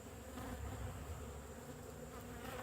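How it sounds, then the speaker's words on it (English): Honeybees buzz steadily at a hive entrance, a continuous faint droning hum with no talking. "Hello, honeybee. You're stinging me, aren't you?"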